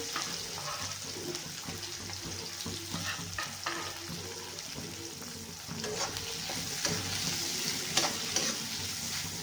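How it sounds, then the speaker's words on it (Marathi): Onion and green chili frying with garlic in a pan for okra, a steady close sizzle with irregular stirring scrapes and clinks, growing slightly louder toward the end, with no voices. "कांदा मिरचीला आपण छान खरपूस लाल होईपर्यंत भाजून घेणार आहे"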